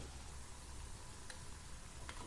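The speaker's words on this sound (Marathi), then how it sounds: "आता कढईत तेल गरम केले आहे त्यात गोळे घालूया हलकेसे तळून घेऊया" Balls of mixture shallow fry in hot oil in a kadhai over a medium flame, giving a steady, quiet, continuous sizzle with a couple of faint ticks.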